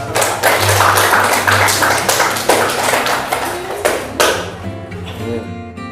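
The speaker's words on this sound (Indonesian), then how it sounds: "Tepuk tangan buat Mbak" A small classroom group claps for a student, a few seconds of quick scattered hand claps that taper off and end.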